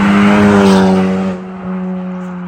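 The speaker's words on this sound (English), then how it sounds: "when the diverter valve opens, it's a straight 3-inch, and it actually sounds pretty good under full throttle" Honda Civic Type R FL5 with a titanium exhaust, center muffler deleted and diverter valve open into a straight 3-inch pipe, roars loud and close under full throttle, a buzzy steady drone that eases slightly partway through.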